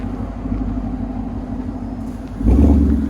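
A 2018 Ford Mustang GT with a 5.0 V8 and an MBRP cat-back exhaust idles with a low, burbling rumble and then gives one sharp, loud rev near the end, recorded close up with no talking.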